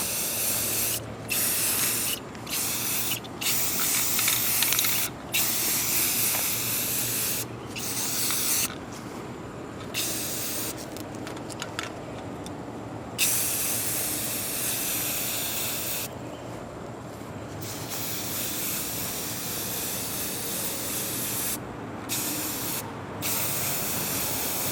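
Primer being spray painted onto antique Briggs engine parts, including the cylinder head: a steady, close aerosol hiss running nearly throughout, broken by short pauses between bursts.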